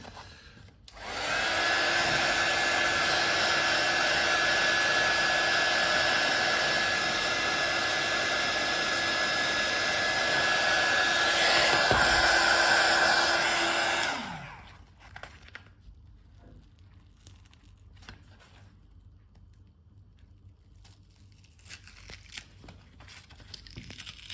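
A heat gun or hair dryer blows a loud, steady roar for about thirteen seconds while heating the midsole of an Air Max 1 sneaker, then cuts off into quiet handling sounds.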